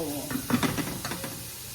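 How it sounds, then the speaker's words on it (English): Small burgers frying in a pan in a home kitchen, a soft close hiss and sizzle with a few light scraping stirs, fairly quiet. "I'm gonna fry up these little burgers"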